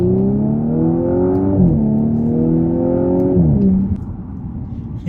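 A 2018 Audi S5 accelerating hard, its engine note climbing and then dropping at two gear changes before climbing again. The revving is loud and close, with no talking.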